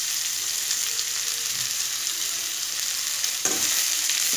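Grated cabbage and carrot sizzle with onion in a hot pan under a continuous close hiss, broken by a sharper stirring scrape near the end, with no talking.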